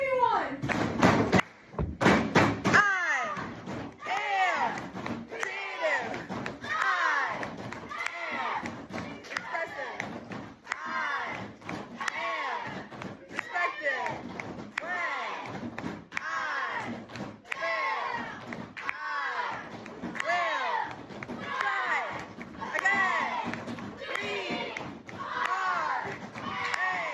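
A classroom group beats the stomp-stomp-clap rhythm of We Will Rock You on tables, a steady run of loud, even thumps that repeats across the whole stretch, with voices chanting and calling along.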